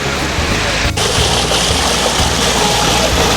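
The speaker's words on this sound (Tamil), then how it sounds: "தண்ணியுடைய சவுண்டு நம்ம கிட்ட க்ளோஸ் அப்பில் பார்க்கலாம்." Water flows steadily in a village, a continuous close-up rushing and gurgling that fills the whole short stretch with no voices.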